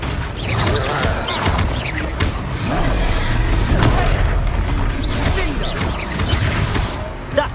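Spell blasts and booming impacts from a Hogwarts Legacy battle, with a fiery Confringo explosion amid creaks and whooshes, dense and continuous at close range with no pause between hits.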